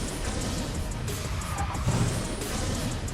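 A car corners and drifts in the racing video game Speed Drifters, a steady engine drone with faint tire skid textures running continuously at moderate level, no clear pauses.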